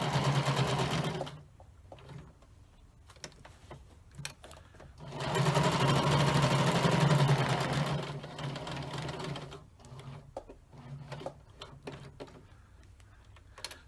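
A sewing machine stitching the seams of a tool pocket, running in steady buzzing bursts with short pauses and clicks of needle repositioning in between, close by, no talk.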